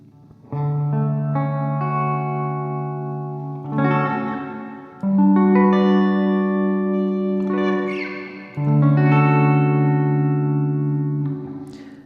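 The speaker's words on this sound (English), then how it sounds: "now let's power on this reverb." An electric guitar run through a Nembrini Double Reverb amplifier plugin plays three long sustained chords, each ringing out with heavy reverb and a washy decay, loud and alone with no talking.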